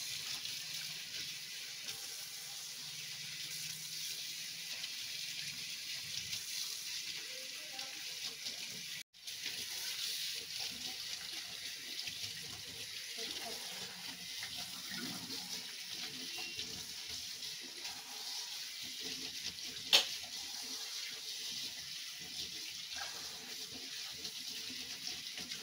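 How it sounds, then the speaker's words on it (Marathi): Tap water running steadily while wild leaves are washed by hand for making leaf vadi, a soft continuous splashing hiss with faint handling sounds throughout. "आता ह्या म्हशियालाची पानं धुवायचं काम चाललंय."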